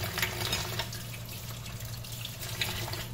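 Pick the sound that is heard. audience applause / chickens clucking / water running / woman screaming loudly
water running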